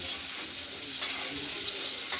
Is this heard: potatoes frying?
yes